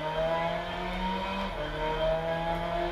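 Ferrari race car engine in the Gran Turismo video game, a steady loud drone with sustained harmonic tones that shift pitch midway, close and continuous with no talking.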